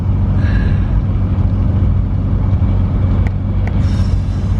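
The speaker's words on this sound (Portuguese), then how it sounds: "Primeira marcha, tô com o pé lá embaixo do acelerador." A car engine strains uphill in first gear with the accelerator pressed to the floor, producing a loud, continuous low rumble close by with no talking.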